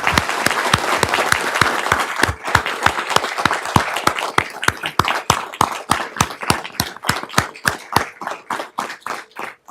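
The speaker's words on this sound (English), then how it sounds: "I just want to have a big round of applause for our police." A council meeting audience gives a big round of applause for the police department, loud dense clapping that thins toward the end into distinct, evenly spaced individual claps.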